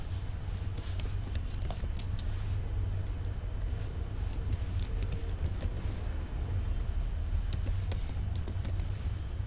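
Rapid clicking of a computer keyboard as a password is typed while creating a signed Android APK, a steady patter of keystrokes over a constant low hum throughout.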